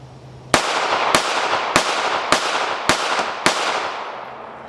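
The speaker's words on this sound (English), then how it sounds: "And the Springfield Armory 911. Just go ahead and take a few rounds." A Springfield Armory 911 .380 ACP micro pistol fires six sharp, loud gunshots at a steady pace, each crack followed by a short echoing tail, with no talking.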